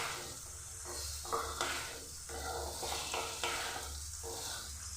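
Tomato and spices sautéing in a pan for a Bengali rohu fish curry, a steady soft sizzle with intermittent scraping stirs, close and continuous with no talking.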